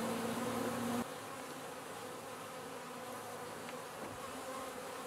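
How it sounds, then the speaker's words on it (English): Honey bees buzzing at an opened hive, a dense, continuous drone of many insects up close that is slightly louder during the first second and then holds steady. "I'm going to open up this hive now and see what's going on here."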